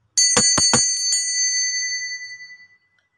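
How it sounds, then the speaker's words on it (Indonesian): A bell rung to mark the start of a card reading: three quick bright strikes followed by a fourth, each leaving a clear shimmering ring that fades away over about two seconds, with nothing else heard. "kita akan memulai dengan ditandai lonceng berbunyi"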